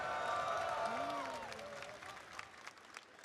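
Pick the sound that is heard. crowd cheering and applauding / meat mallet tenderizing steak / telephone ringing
crowd cheering and applauding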